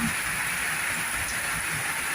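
Heavy rain pours down in a constant, even hiss with a dull low rumble beneath, unbroken throughout and with no voices.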